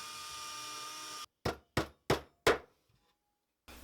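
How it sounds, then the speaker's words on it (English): Four sharp, evenly spaced hammer strikes drive a small nail into the top of a one-board wooden tool tote, each a crisp close knock with a quick decay and silence between, following a steady hum that cuts off. "all I'm going to do is put a little nail down through the top of it"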